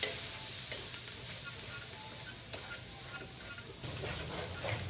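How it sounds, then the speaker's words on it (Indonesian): Spice paste sautés in a pan for tempeh orem-orem, giving a soft, continuous low sizzle with occasional faint scrapes of stirring, fairly quiet and close, with no voices. "di bumbu saya tumis terlebih dahulu"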